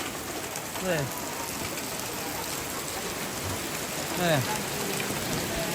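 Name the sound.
heavy rain falling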